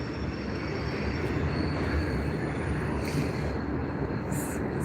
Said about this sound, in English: The train goes all the way around this like peninsula, so you can't outrun it.